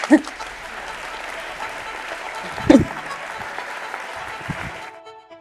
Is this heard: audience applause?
yes